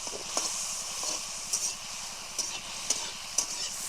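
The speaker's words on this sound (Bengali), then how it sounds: "দিয়ে ভালোভাবে চিংড়িটা ভেজে নেব" Prawns frying with turmeric and salt, a soft, constant sizzle with spatula scrapes and taps recurring every second or so.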